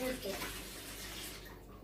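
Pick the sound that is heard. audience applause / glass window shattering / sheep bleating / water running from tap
water running from tap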